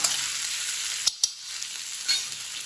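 Okra and egg fry in a pan with turmeric and salt, producing a dense, even hiss of sizzling oil interrupted by a few quick stirring knocks.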